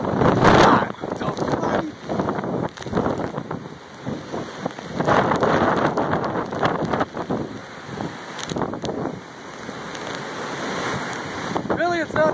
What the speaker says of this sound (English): Other than the rain stinging you in the face and 100-mile-an-hour winds trying to pull you back into the ocean.